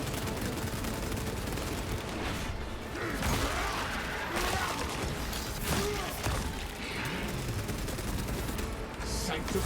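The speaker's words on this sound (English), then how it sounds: "Why is my gun firing that way?" Heavy bolter fire in a Warhammer 40,000 Space Marine video game, dense and loud with continuous rapid bursts and impacts layered over game effects throughout.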